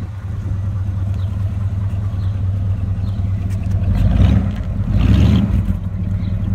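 A 1977 AMC Matador Barcelona II with a 360 engine and cherry bomb mufflers idles with a low, mellow rumble, then revs twice in swelling bursts, moderately loud and up close, with no talking.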